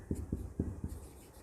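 Pen or marker strokes on a surface during a math lesson on algebra, a few quiet scratchy taps in a short rhythmic run, faint and close with no talking.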